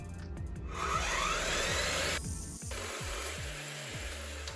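VEVOR chop saw cutting through 3/4 inch steel round bar, a steady grinding rasp with rhythmic pulsing, briefly dropping and shifting partway through before continuing.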